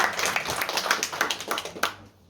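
A literary conference audience applauds in a short, dense burst of clapping that holds steady and then fades out abruptly near the end.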